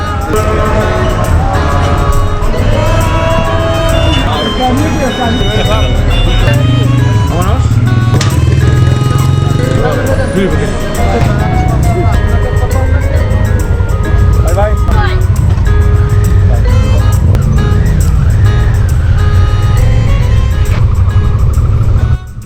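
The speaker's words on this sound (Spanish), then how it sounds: "Además hay bastante tráfico, así que está complicado." Busy street traffic in Iraq, with engines of cars and trucks churning loudly and continuously close by, a dense steady road roar with occasional horn-like tones and shifting motor pitches throughout.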